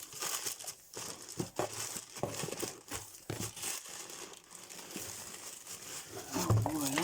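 Bubble wrap is crumpled and crinkled by hand while a parcel of sunflowers is unpacked, with irregular close rustling bursts and some tearing, under occasional quiet talk.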